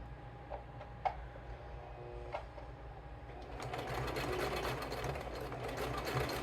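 A sewing machine set to a plain straight stitch hums faintly at first with a few isolated clicks, then runs more steadily and a little louder toward the end, heard close by.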